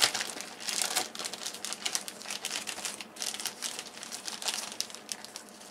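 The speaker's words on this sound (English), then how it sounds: "Just rip the top section of this bag and then I can put it back in the bag when I'm done" The sealed plastic bag of a Swedish Type 32 gas mask being ripped open, a close, busy series of crinkling, crackling tears and rustles in quick irregular bursts, with no voices.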